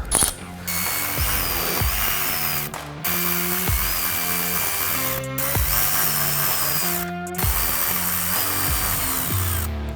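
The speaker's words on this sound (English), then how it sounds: "You use a size 10mm wrench or socket to remove them." A ratchet wrench or socket removing 10mm grille bolts on a 2023 Ford Super Duty, with loud, close, rapid clicking runs and brief pauses between bursts, heard without talking.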